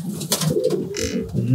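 A tame pigeon sitting on its nest coos in soft, low murmuring phrases at close range, with a brief spoken murmur from a person near the end.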